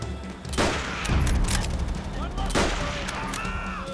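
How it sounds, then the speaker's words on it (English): Springfield sniper rifle fire in the video game Call of Duty: World at War, with loud sharp shots and booming reports over battlefield noise, a voice talking underneath. "see this Springfield sniper rifle? Take it out!"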